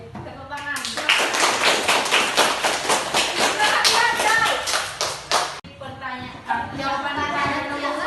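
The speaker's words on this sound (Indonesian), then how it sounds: "Baik, tepuk tangan." Audience clapping at a youth Catholic catechesis session, a dense, steady round of applause that starts after a second and continues loudly, briefly dipping before resuming, with voices mixed in.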